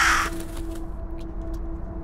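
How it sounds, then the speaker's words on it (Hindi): A crow caws harshly in the horror video game Keep Out as it attacks the player, one loud close call at the start followed by a quieter continuing game soundscape with a steady hum. "अबे कौवा मार रहा है मुझको, बे कौवे तेरा हिम्मत कैसे हुआ"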